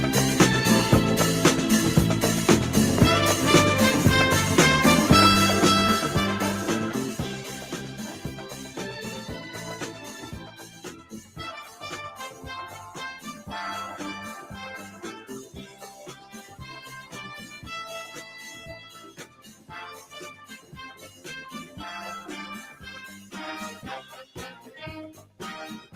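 Instrumental soul theme, the 1974 Soul Train television theme, with lush horns and strings over a steady groove, fuller and louder for the opening seconds before settling to a lower, busy level.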